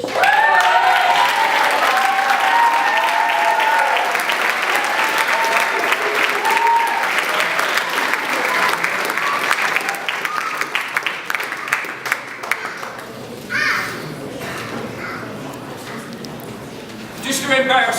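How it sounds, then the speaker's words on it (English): Sustained crowd applause fills the hall at a presentation evening at Woolwich Barracks, loud and dense throughout, with speech heard over it early on before it thins into scattered claps. "another round of applause"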